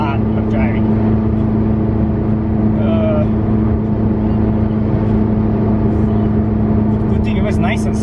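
Steady, close engine and road drone from inside a car driving on a sunny day, a constant low hum with faint tonal whine running the whole way, with occasional soft thumps and a brief rattle near the end.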